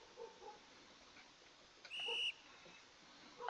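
A whistle is blown once in the Roblox sinking ship game, a short shrill blast of about half a second heard clearly over faint quiet background.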